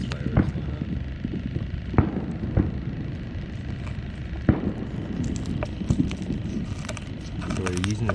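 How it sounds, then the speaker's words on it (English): Fireworks crackle and pop in the distance during a Fourth of July evening of fishing outdoors, scattered sharp bangs rising over a steady background of ambient noise. "As you can hear in the background, it's not from the 4th of July. That's crazy, those fireworks going"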